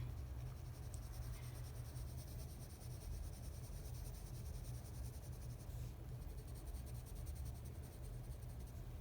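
An Inktense colored pencil lightly strokes across paper, giving a faint, continuous scratching whisper that runs steadily with no talk.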